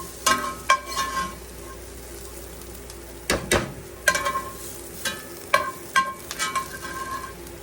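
Vegetables are tipped into a sizzling pan of pork chops, giving scattered clattering bursts and stirring scrapes over a low, steady frying hiss.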